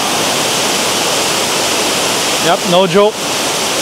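Tagbilat Falls in Zamboanga Sibugay rushing as a loud, constant broadband roar of falling water, with a voice briefly speaking over it near the end.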